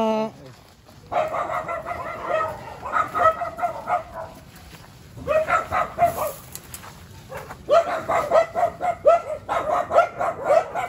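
Several dogs bark in repeated bursts, fairly close, with short pauses between volleys and some chickens clucking in the background, in rural Asingan, Pangasinan, Philippines.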